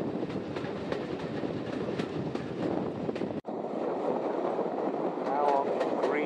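A train on the Dartmouth steam railway crosses Greenway Viaduct with a steady rumble and rattle of carriages and wind buffeting, while faint voices talk in the background.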